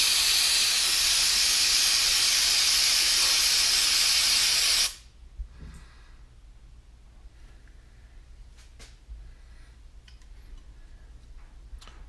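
A loud, steady hiss of aerosol cleaner sprayed on a car's mass air flow sensor blasts for about five seconds, then cuts off abruptly, leaving faint ticks and small handling noises.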